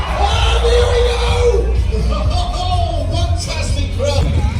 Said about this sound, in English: Fantastic crowd.